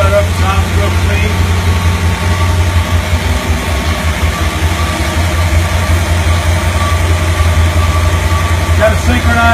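An antique Ford Thunderbird with a dual-quad V8 runs at a loud, steady idle, its low rumble holding even and unbroken from start to finish.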